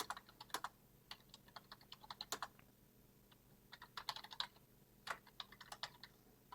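A password gets typed on a computer keyboard in irregular bursts of crisp key clicks with short pauses between groups, close and quiet with no talking.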